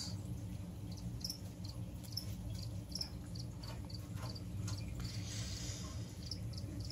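Crickets kept as feeder insects for a tarantula collection chirp in quick, repeated bursts over a steady low hum, moderately faint and close by, with no talking.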